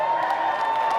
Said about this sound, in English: Why would you cheer that?